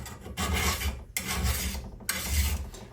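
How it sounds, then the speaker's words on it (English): A file rasps along a Husqvarna chainsaw bar to take off burrs, making three long, harsh scraping strokes in a steady rhythm, close and fairly loud, with short pauses between strokes. "I can feel the burr on here underneath the file, and then I can feel when it gets smooth, it like just skates right off."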